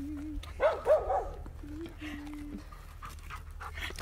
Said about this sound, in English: They're playing with the dogs.